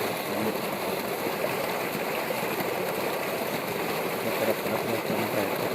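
Fast-flowing river water swollen by heavy rain rushes past at night near a farm, a steady dense wash of noise throughout with a faint engine-like hum beneath, no talking.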